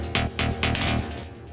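A bright synth stab plays a short rhythmic melody for melodic techno, three sharp plucked hits in quick succession followed by fading echoing repeats, clear and close with no voices.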